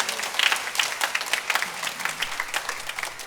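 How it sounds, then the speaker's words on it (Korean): A Korean church congregation claps during a Sunday morning worship service, the applause coming in a lively, uneven patter of many hands at moderate loudness with individual claps standing out. "우리 격려와 축복의 박수 한번 해주시죠."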